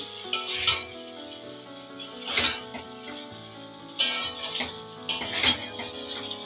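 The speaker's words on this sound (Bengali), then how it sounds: "ভালো করে ভাজা ভাজা করে নেব এক দু মিনিট" Pasta frying in a pan over medium flame with a moderate sizzle, broken by recurring scraping and stirring bursts over a faint musical tone.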